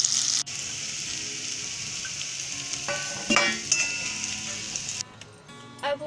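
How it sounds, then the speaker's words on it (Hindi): Boiled potatoes fry in hot oil toward golden brown, giving a steady close sizzle with faint stirring clinks partway through; no one speaks. "ये उबला हुआ आलू है, इसे थोड़ा गोल्डन ब्राउन कर निकाल लेंगे।"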